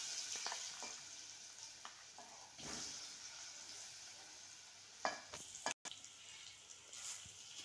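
Grated sweet potato fries softly in ghee while it is stirred, a faint, steady sizzle broken by occasional scrapes and knocks of a spoon.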